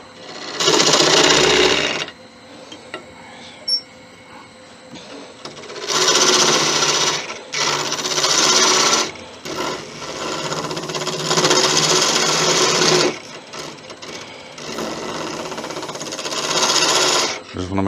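A woodturning lathe tool cuts into 5000-year-old bog oak while shaping the halo of an angel, with loud, close, harsh scraping bursts lasting a few seconds each and separated by quieter spinning pauses.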